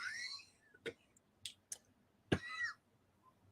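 A single short cough rings out close by, surrounded by a few faint clicks and throat noises in an otherwise quiet room.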